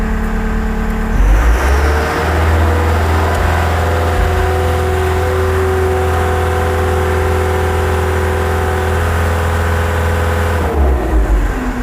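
A Wacker Neuson skid steer loader's diesel engine is held at maximum RPM while the joystick is pushed fully forward in creep mode. It makes a loud, steady drone with a hydraulic whine after a short rise, then drops back near the end, with no talk.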